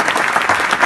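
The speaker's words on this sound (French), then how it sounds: "j'aimerais qu'on applaudisserait très fort l'ambassadeur d'Estonie qui nous a fait le plaisir de venir" Audience applause for the Estonian ambassador at an awards event, a short burst of loud, dense clapping from a crowd, close and continuous without pause.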